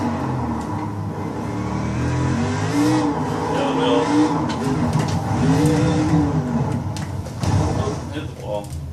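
A racing car engine in a sim racing game played on a Fanatec CSR wheel, revving up and down in smooth rising and falling sweeps over a constant background of road and tyre noise.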